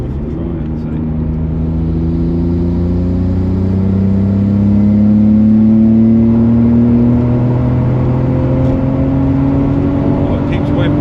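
A Nissan Skyline R32 GTR engine pulling hard in fourth gear, a loud, close, steady drone with tones climbing smoothly as revs rise over about eleven seconds, with talk from inside the car.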